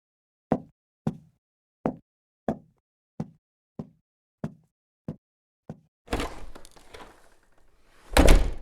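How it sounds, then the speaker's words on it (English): Nine evenly spaced footsteps thud on a hard floor, then a door creaks open and bangs shut loudly, with no reverb. "we'll listen to just the foley of some footsteps, followed by a door sound effect"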